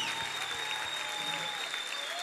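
A church congregation claps together during a Brazilian evangelical service, steady dense applause filling the room with a constant high tone underneath, brief and fairly distant.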